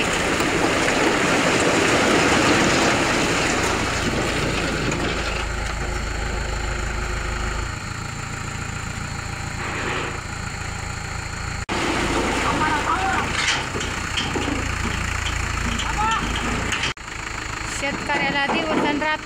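A tractor engine idles and runs with a steady mid-pitched rumble and vibration on a farm in the evening, close by and continuous, with people talking over it and a few abrupt breaks.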